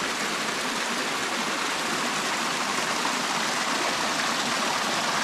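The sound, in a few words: stream of water flowing down village road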